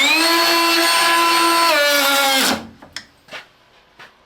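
A cordless plunge router (Makita 40V or DeWALT 20V) whines at high speed with a steady pitched tone, bogs down and cuts out as it stalls, followed by a few faint clicks and knocks.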